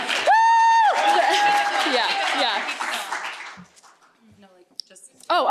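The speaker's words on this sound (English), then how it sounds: "We gotta clap." An audience at an award ceremony for finalists in an innovation showcase applauds loudly, with a whoop and cheers riding over the steady clapping for a few seconds before it thins out. Someone speaks briefly.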